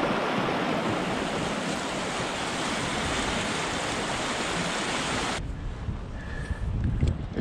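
Fast-flowing wilderness river rapids make a dense, steady roar of rushing water, loud and close at first, then suddenly duller and more distant for the final couple of seconds.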